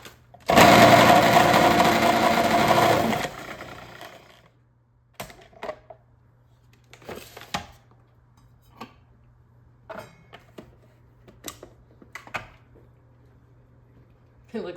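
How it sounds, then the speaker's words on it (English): A food processor grates a bar of soap for homemade laundry detergent, a loud whirring burst lasting about three seconds, then scattered clicks and knocks in quiet. "So whenever I grate the soap, I actually just use my food processor."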